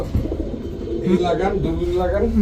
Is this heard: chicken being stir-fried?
no